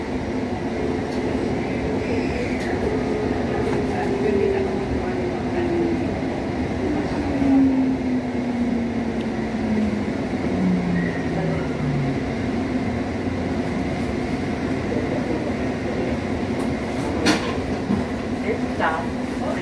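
A Hudson-Bergen Light Rail train rolls toward Tonnelle Avenue, a steady loud interior rumble with a slowly falling motor whine and occasional clicks, while an onboard announcement speaks over it.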